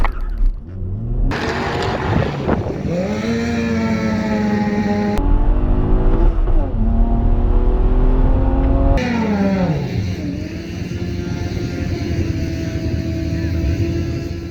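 A tuned BMW 335i with the N54 engine revs hard at a drag race, recorded close beside the blow-off valves, the pitch climbing and dropping through several gear changes, loud and continuous.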